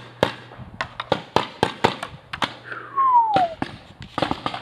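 A paintball marker firing outdoors at a paintball field, a rapid irregular series of sharp pops and cracks, close and loud, with a brief whine partway through.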